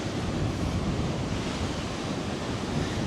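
Rough sea surf breaking continuously on Filey beach, a loud, steady roar of crashing waves with heavy wind buffeting throughout, no voices.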